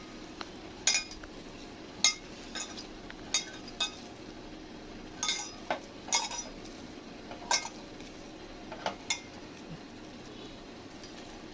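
Chopped tomato, onion and coriander are mixed in a bowl with a spoon, giving a series of quiet, irregular metallic clinks and taps at close range over a faint background hiss.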